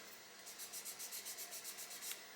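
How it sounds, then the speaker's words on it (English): A 400 grit sanding stick is drawn back and forth with light pressure over a surface to smooth out sink marks, giving about a dozen soft, even rasping strokes, close and quiet, with no voices. "So all I'm going to do with a 400 grit sanding stick, I'm just going to come over the top"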